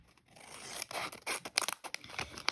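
Scissors cut down the sides of folded paper for a gingerbread-house gift card holder, giving a quick series of close, crisp snips and rustles.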